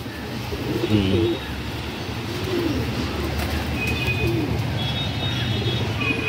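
Cooing from a Madrasi old-generation female pigeon among other pigeons, low throaty coos rising and falling over a steady background hum, a few faint chirps higher up.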